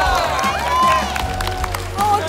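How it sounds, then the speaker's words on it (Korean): Studio audience clapping during a swimming match segment on the Korean variety show Knowing Bros, a brief patter of applause mixed with crowd noise beneath loud, excited talk. "여러분들 힘내라고 박수!"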